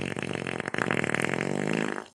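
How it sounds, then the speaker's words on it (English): A loud, sustained fart close to the microphone, rasping continuously for about two seconds. "I had to Fart."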